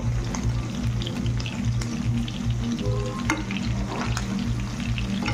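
Chicken pieces for chilli chicken fry steadily in hot oil, a continuous close sizzle with a low hum running beneath, interrupted by occasional crackles and brief clinks.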